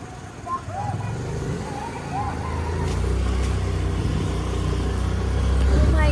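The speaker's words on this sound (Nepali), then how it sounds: "7 महिनापछिको स्कुटर राइड" A scooter engine during a ride, a steady low drone with road and wind rush that grows gradually louder over several seconds, with voices faintly mixed in.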